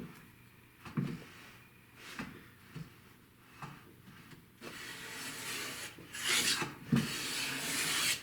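A Lie-Nielsen hand plane shaves red heart wood in a series of rasping strokes, the last few heavier and louder, close by with no talk.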